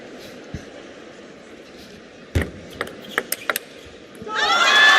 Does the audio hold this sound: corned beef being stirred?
no